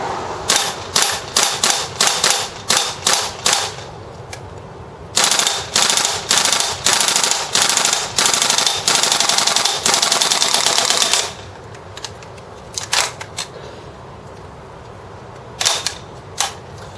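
A WE G36c gas airsoft rifle fires full auto outdoors in cold weather at about 40 degrees, loud close bursts of rapid snapping shots in several strings, then a few scattered single pops and quiet pauses.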